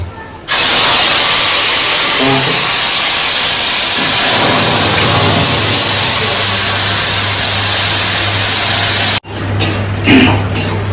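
Spice paste with cumin seeds hits hot oil and sizzles loudly and steadily close by, a dense continuous hiss lasting for seconds before briefly cutting off and resuming with clattering.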